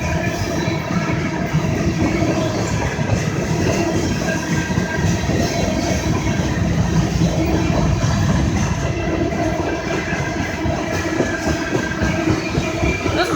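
A slow CSX freight train rolls through downtown Bell Buckle, Tennessee in the rain, its cars rumbling and clacking steadily over the rails at close range for the whole stretch, without speech.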